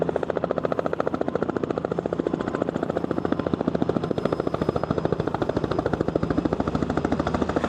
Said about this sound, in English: we have a helicopter coming in right now to land